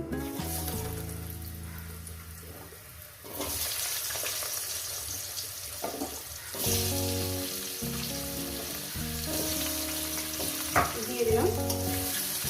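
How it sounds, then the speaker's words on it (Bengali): Potatoes fry in a pan after a cumin tempering for a vegetarian paneer posto dish, giving a loud, steady sizzle with occasional stirring scrapes under a continuous tonal background. "আলুগুলোকে একটু সুন্দর করে লাল লাল করে ভেজে নেব"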